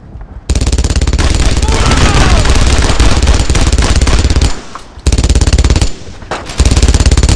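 Sustained MG-42 machine gun fire in the World War II shooter Brothers in Arms: Road to Hill 30, loud and dense rapid bursts almost throughout with short breaks, mixed with other battle gunfire and shouted voices.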